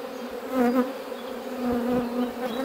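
Honeybees swarm around an opened hive with brood frames exposed, making a dense, steady, close buzzing drone that rises and falls slightly, with no voices.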